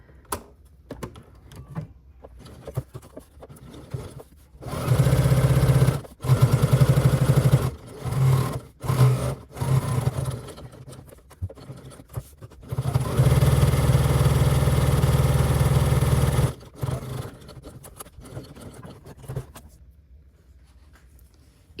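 Sewing machine stitching a clear vinyl lanyard strap, running in several loud bursts of steady motor whir and needle chatter separated by pauses, the longest run near the middle.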